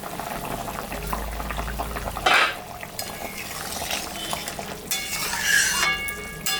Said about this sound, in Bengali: ঝোল ফুটে গেছে